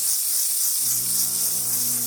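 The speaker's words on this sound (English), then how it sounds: "Steaming, again, we're already past 1 bars. Steam working really well." Steam wand on a Quick Mill espresso machine releasing a steady, close hiss that runs throughout, with a low hum from the machine joining partway through.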